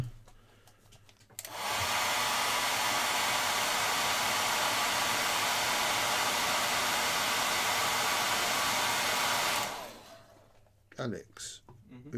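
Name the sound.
hair dryer running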